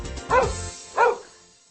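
Two loud dog barks about half a second apart, close by, with a short fading tail after the second.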